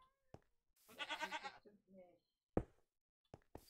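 A Minecraft goat gives a wavering, quavering bleat, brief and close, surrounded by a few sharp knock-like clicks and taps before and after.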